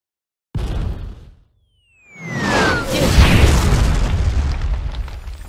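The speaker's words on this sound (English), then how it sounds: "Cannon fire? Where's it coming from?" Cannon fire from a ship on the water in the video game Kingdom Hearts Birth by Sleep: a loud, close boom, then a whooshing projectile and a long, rumbling explosion that fills the space.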